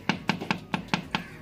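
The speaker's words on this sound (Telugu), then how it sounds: "డబ్బా సౌండ్ వస్తుంది అంతా." Six evenly spaced hollow, tinny knocks ring out close by as a sheet-metal pillar is tapped inside a wooden house with a metal sheet roof, each strike sharp and short with a brief ring.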